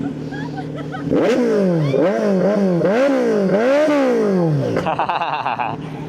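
A Kawasaki Z900 big bike revving loudly up close, its engine climbing and dropping in several repeated throttle blips before settling into a rough, clattering idle.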